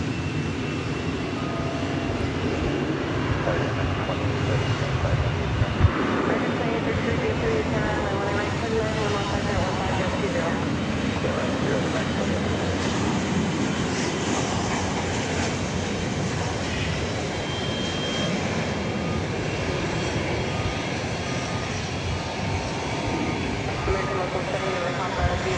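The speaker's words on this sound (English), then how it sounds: "we've got an American Airlines plane coming in from Phoenix" An American Airlines plane arriving from Phoenix at DFW Airport at night makes a steady, broad engine roar that fills the whole stretch, with voices talking over it.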